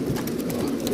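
Imported French meat pigeons cooing in cages, soft low repeated coos overlapping close by in a steady murmur with no talk.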